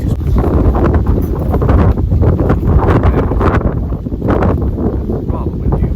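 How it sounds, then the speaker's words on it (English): Strong outdoor wind buffets the microphone in loud, rumbling gusts that swell and ease, with someone talking under the roar. "Rather windy here"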